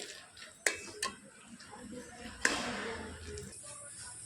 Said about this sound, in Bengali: এইভাবে কিন্তু হাতা দিয়ে নাড়াচাড়া করে যেতেই হবে নাহলে কিন্তু নিচ থেকে ধরা লেগে যাবে